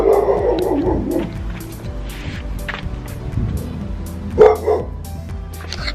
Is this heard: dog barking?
yes